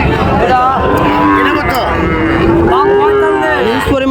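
Sahiwal cattle at a livestock market moo loudly and close by, several long drawn-out bellows following one another, with faint crowd murmur behind.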